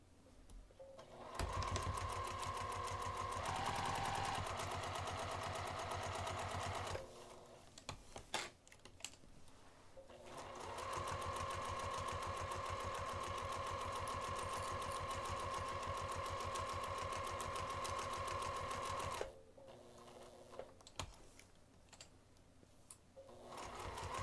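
Stitching the sides and bottom of a craft bag with a narrow seam, a sewing machine hums in two long continuous runs, broken by a pause with clicks and handling noises.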